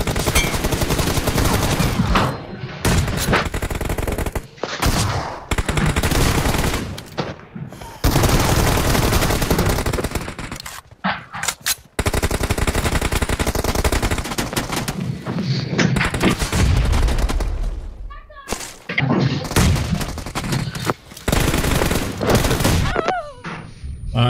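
Gunfire in the BGMI battle royale game: dense bursts of automatic and single shots crackle loudly in repeated volleys with brief gaps between them, all close and continuous through the stretch.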